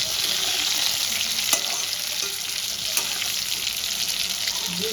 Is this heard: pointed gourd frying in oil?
yes